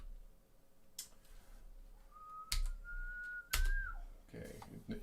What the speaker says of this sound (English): you know it's bad when I start whistling